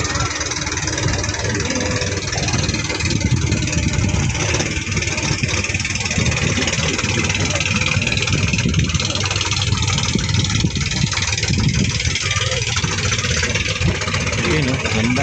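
Motorboat engines run steadily on a crowded stretch of water with many similar boats, a loud continuous rumbling drone throughout, with voices faintly underneath.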